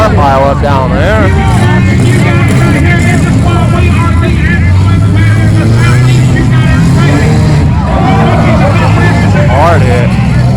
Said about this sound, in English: Got a big old car pile up down there.